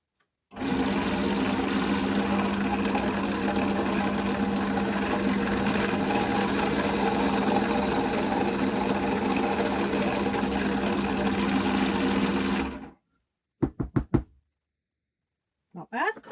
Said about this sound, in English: I've got to hold on to the wood while I drill.